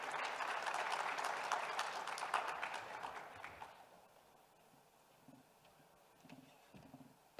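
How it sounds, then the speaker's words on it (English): An audience at a forum stage at the Global Expo Botswana claps for a panelist, a moderate burst of applause that fades out after about four seconds, leaving near silence with faint taps. "A round of applause for him."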